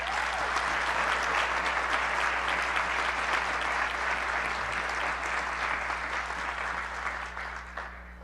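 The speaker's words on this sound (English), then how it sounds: "give a round of applause for these amazing people" Sustained applause from a large crowd at an outdoor college commencement ceremony honoring faculty and staff, a dense even wash of clapping that holds steady and tapers slightly at the end, over a constant low electrical hum.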